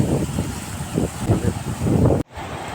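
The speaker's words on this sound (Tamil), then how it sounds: "காற்று தான் கைஸ் ரொம்ப பலமாக அடிக்குது" Strong wind buffets a microphone outdoors in Kuwait, a loud rumbling gusty roar with rhythmic surges, cutting out abruptly near the end before resuming more softly.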